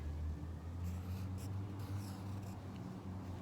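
The date is written by hand during a gardening lesson, with faint pen or pencil scratches in a few short strokes over a low steady hum, soft and close.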